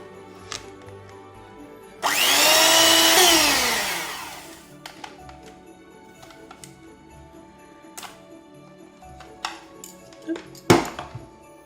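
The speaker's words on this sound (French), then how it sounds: "on va de nouveau monter les jaunes d'œufs avec le sucre. Donc vous pouvez reprendre le petit batteur à main" A small electric hand mixer beats egg yolks with sugar for a Tiramisu-style rolled log cake, whirring loudly for about two seconds with rising then falling pitch, followed by faint clinks of utensils against a bowl.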